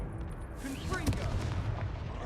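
A Confringo blasting spell fires in Hogwarts Legacy with a sharp magical burst and whoosh, followed by a rumbling, booming impact that lingers over a dense, noisy game soundscape.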